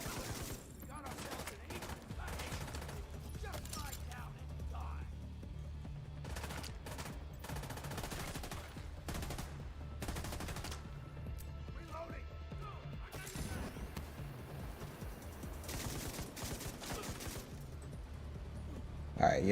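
Rapid, dense blaster fire from a video game battle, with sustained volleys, crashes and impacts filling the whole stretch while a player talks over the action.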